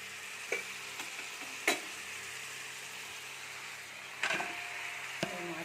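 Ginger and cumin sautéing in a hot pan for a fish curry, a steady soft sizzle with a few light clinks and scrapes of a spoon stirring.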